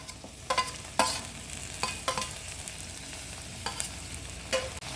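Chopped tomatoes go into a pan of frying chole masala, giving a low, steady sizzle punctuated by several sharp scraping stirs of a spoon against the pan, fairly close and with no talking.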